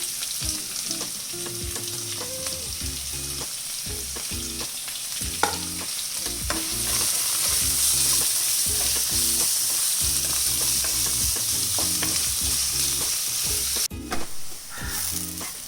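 Onion, green chili and ginger sauté together in a pan for idli masala, giving a loud, steady sizzle broken by frequent stirring scrapes that build toward a fuller fry midway.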